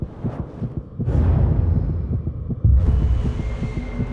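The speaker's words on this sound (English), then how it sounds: "I can hear my heartbeat in my ears." Heartbeat sound effect in a paranormal hotel episode: a deep, steady thumping pulse repeating in regular double beats, loud and close, layered over a low droning hum with no talking.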